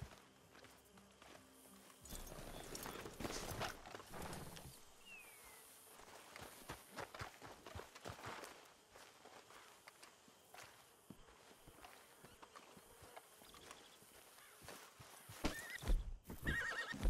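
Horses in Red Dead Redemption 2 whinny and shuffle their hooves, with scattered clopping steps and snorts, fairly faint and close amid quiet ambient outdoor sound.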